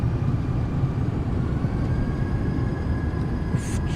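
Citation Sovereign+ jet thrust reversers on landing rollout in the MSFS2024 flight simulator, a steady, loud, low rumbling roar that holds for the whole stretch with no talking.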